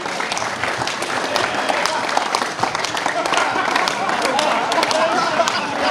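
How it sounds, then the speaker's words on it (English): Enthusiastic applause for the runners-up at the final of a casual FIFA World Cup gaming tournament, with steady clapping from a small crowd carrying on for several seconds under cheerful chatter and talk. "As runners up of the tournament, round of applause for Nick Shipley."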